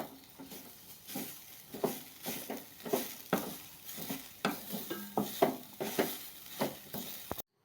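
Papaya thoran with grated coconut is stir-fried in a pan: a faint steady sizzle under rhythmic scraping stirring strokes, repeating about twice a second at an even pace.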